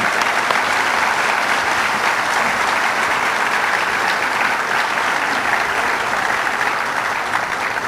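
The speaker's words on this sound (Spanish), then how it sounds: "también un gran aplauso para Chicontepec en este caso" Sustained applause from an audience at the inauguration event of a cryogenic plant in Poza Rica, a dense, steady clapping that fills the whole stretch without speech.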